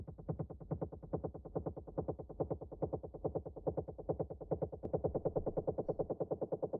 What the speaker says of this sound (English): We have this delayed kick that sounds like this.